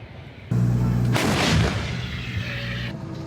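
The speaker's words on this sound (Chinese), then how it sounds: "台中番仔寮也是炮声不断" Self-propelled howitzers, M109-type guns among them, firing during an anti-landing military drill at Fanzailiao in Taichung: one loud, close artillery boom strikes abruptly and rolls into a long decaying rumble.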